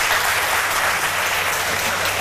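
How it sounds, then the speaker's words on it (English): A studio audience at a children's mental arithmetic quiz show applauds the contestants, a brief, even burst of many hands clapping. "Let's clap for them."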